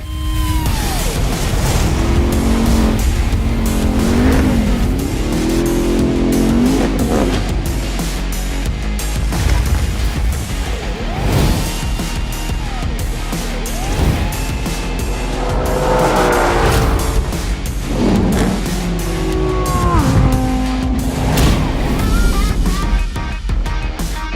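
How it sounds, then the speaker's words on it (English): Drag-race cars launching at an elimination-style event, with a Porsche Cayenne Turbo Coupe and a pickup truck among the field: loud, continuous engine roar with tire squeal and skidding throughout, no voices. "we're doing elimination-style drag racing"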